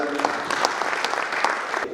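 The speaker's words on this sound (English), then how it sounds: "So a round of applause." An audience claps at an annual business summit in Hyderabad, a brief burst of steady applause from a crowd that fades out near the end.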